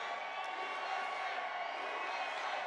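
Large campaign rally crowd in New Mexico cheering and roaring in a steady, dense wash of voices that fills the whole stretch, distant and diffuse.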